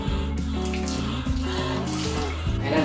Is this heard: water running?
yes